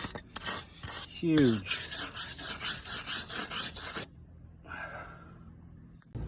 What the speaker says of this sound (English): Use a steel brush here and give some scrubbing away.